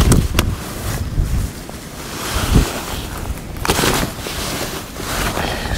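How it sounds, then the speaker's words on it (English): Strong wind gusts rush and buffet the microphone at a lakeside fishery during a match, rising and falling in loud, broad roaring waves with no other clear sound. "You've got to be mighty strong with this wind."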